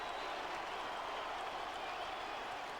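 A football crowd at Chesterfield roars steadily after the winning goal against Hull City, a dense, continuous wash of cheering and applause that holds level throughout.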